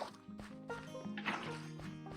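Water poured from a bucket into barrels in Minecraft, a short run of close splashing, gurgling liquid bursts over a steady low background hum.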